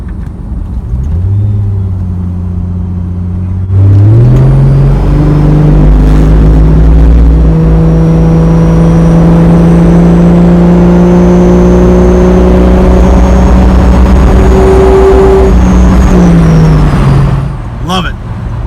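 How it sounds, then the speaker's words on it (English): Plymouth Prowler exhaust drones loudly and steadily from the road, rising in pitch as the car accelerates around four seconds in, then holding a strong cruising growl before easing off near the end. "the exhaust noise is absolutely obnoxious, and I love it"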